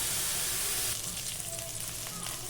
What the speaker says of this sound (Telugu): ఇప్పుడు కొన్ని కలర్ చేంజ్ అయ్యే వరకు వేయించుకోండి